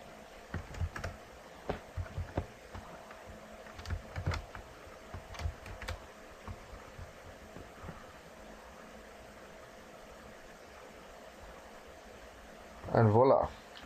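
Keyboard typing of a username and password on a computer, heard as scattered bursts of key clicks over a steady fan-like hiss, followed by a louder burst at the end.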